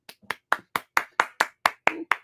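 Crowd round of applause rendered as about ten distinct, evenly spaced claps in a steady rhythm, fairly close and dry, with nothing else alongside.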